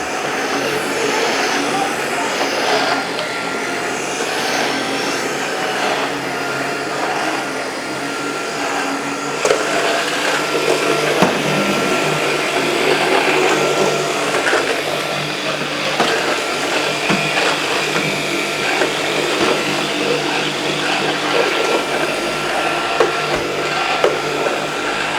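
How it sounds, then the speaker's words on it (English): A household vacuum cleaner runs continuously at close range, a loud steady whine and roar lasting throughout, with faint background sounds and no clear talk. "Discombobulated vacuuming done."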